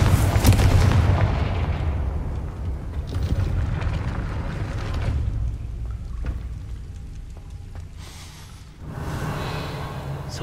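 A Confringo fire spell from Hogwarts Legacy bursts loudly at the start, a heavy booming blast that rumbles and fades over several seconds, followed by softer crackling impacts and a second swell of rushing noise near the end.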